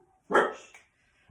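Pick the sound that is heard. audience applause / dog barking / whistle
dog barking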